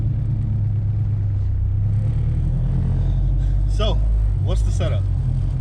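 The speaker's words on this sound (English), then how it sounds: "now we're going to go on our first drive in the B16" A Honda Civic EJ2 with a B16 engine drives along with a steady, low engine rumble and road drone, a brief rise in revs near the end, and people talking over it.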